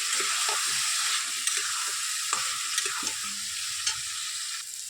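Tomato stirred into prawn masala frying in a pan, a constant bright sizzle with soft scraping and knocking of the spoon throughout, close and even.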